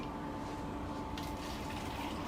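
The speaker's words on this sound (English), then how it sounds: "And we can even pour some of that out to give our viewers a better view." Water from a container is poured out in a steady, continuous splash and gush, fairly faint, with no voices over it.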